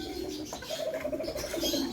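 Pigeon cooing in a pigeon loft, a soft close-up throaty coo rolling through the short moment against quiet background.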